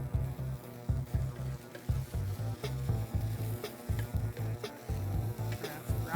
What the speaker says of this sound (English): That's browning pretty good there now.